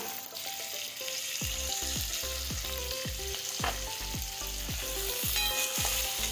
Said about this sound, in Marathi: आता अगोदर आपण थोडं परतून घेऊया, मग बाकीच्या भाज्या घालूयात.